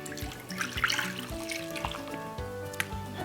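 Water with squeezed lemon is poured into a roasting pan around onions, making a light, close trickle and splash with a few drips and small clinks.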